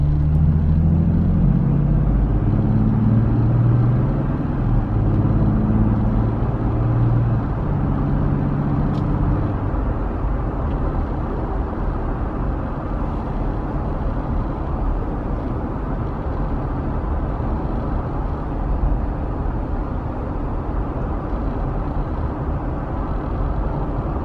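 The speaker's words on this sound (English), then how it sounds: "We're gonna cruise at 30 miles an hour." A Jeep Gladiator cruises steadily at 30 miles an hour, heard from inside as a continuous low road and engine rumble with tire noise, loud and even throughout, a deeper drone fading after the first few seconds.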